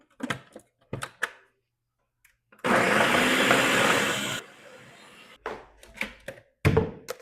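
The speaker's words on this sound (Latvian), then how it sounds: "Tā, blenderējam." A blender whirs loudly for about two seconds, mixing thick vegan waffle batter of avocado, soy milk and psyllium, between short bursts of clinking and knocking of utensils before and after.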